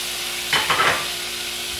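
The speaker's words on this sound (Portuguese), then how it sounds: "Ela vai colocar nessa panela que tá dourando o alho." Drained vegetables, onion and bell pepper hit a pan of browning garlic for yakisoba, giving a sudden loud sizzle with brief stirring that fades back to a low, steady fry.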